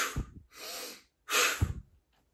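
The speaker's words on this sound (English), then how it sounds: "big, powerful breaths in through the nose, forcing that exhale out of the mouth" Two forceful power breaths, each a sharp nasal inhale followed by a strong blown exhale through the mouth, close and loud, separated by brief silence.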